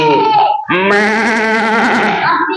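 A voice imitates a goat's bleat with a wavering, quavering cry lasting about two seconds, loud and close, preceded by a short vocal sound, as part of a children's storytelling session.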